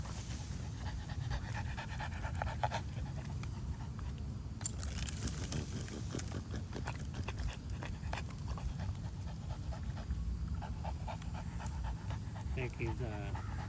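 A 17-month-old Bull Dog Terrier pants steadily after training, quick rhythmic breaths close by, with faint jangling and scattered clinks throughout and no clear talk.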